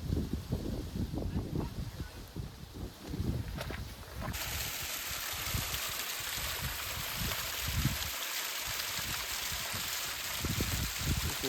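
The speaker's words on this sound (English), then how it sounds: "Just waterfall after waterfall right off the side of the trail." Constant rushing water of a waterfall beside a mountain hiking trail, broadband and steady, with some low bumps and handling noise early on.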